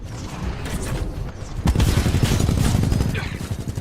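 Titanfall 2 combat gunfire rattles in dense rapid bursts, loud and close, growing heavier and more continuous after the first second and a half.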